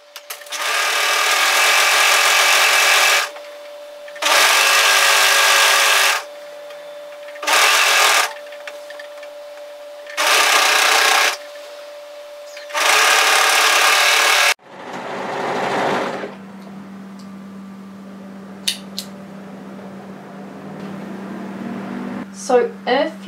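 A sewing machine stitches the side seam of a wrap hoodie in five close, loud bursts with short pauses between them, followed by quieter handling sounds and a low hum after the last run.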